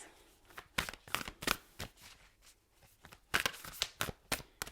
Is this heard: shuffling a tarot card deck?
yes